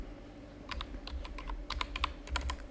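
Fingers tap on a computer keyboard in irregular bursts of quick, crisp keystrokes, fairly close and quiet against a low background hum.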